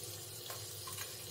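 Chopped onion dropped into hot oil for Malvani kaleji masala, a soft, steady sizzle with faint stirring, close and quiet.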